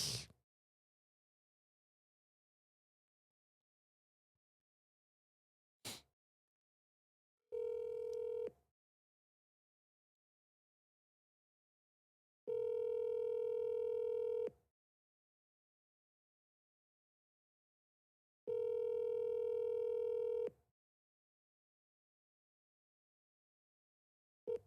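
Telephone ringback tone of an outgoing call, three steady electronic rings spaced several seconds apart in near silence, with a couple of brief clicks at the start.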